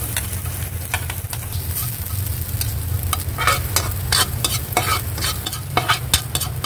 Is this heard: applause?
no